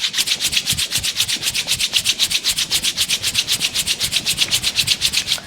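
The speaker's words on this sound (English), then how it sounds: "Rub your palms together." Palms rubbing together briskly in a yoga session, a close, dry, rhythmic swishing repeated at an even quick pace for several seconds.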